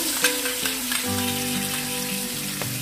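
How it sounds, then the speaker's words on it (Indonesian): Spicy chili mixture for teri balado sautéing in a pan, a steady close sizzle with sharp utensil scrapes and taps against the pan, and a low hum running beneath. "kita tumis."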